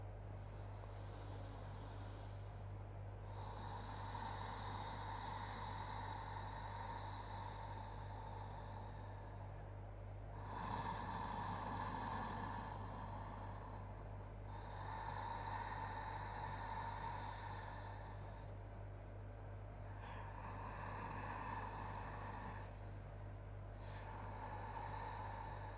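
Deep yogic breathing during a hatha yoga session: slow, full breaths come in long airy swells, each lasting several seconds, over a constant low electrical hum.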